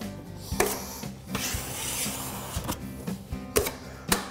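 A drywall knife scrapes and rubs across paper tape as it is pressed into wet joint compound and the excess is cleared. The strokes are close and repeated, with a few sharper knocks and no talking.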